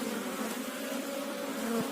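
Steady, close insect buzzing from a mass of honeybees on hive frames with many young bees, a continuous droning hum with no voices.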